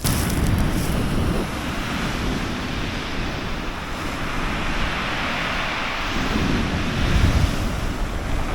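Waves break on a cold, empty Brighton Beach while strong wind buffets the microphone, a continuous loud roar of surf and gusts with no voices.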